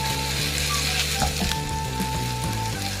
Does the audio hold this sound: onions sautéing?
yes